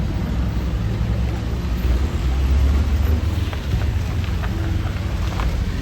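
Road traffic rumbles past on a cycling route as two buses and two cars go by together, a low, continuous engine and tyre roar with wind buffeting the microphone and no talking.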